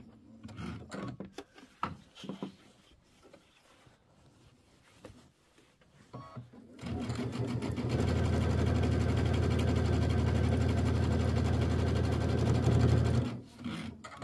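A sewing machine stitching quilt binding starts after some handling clicks and then runs in a loud, steady mechanical whir for several seconds before stopping abruptly, with no voices.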